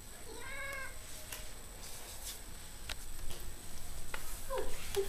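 A pet cat meows a few times at feeding time indoors, short rising calls near the start and again toward the end, fairly close, with quiet room noise and faint clicks between.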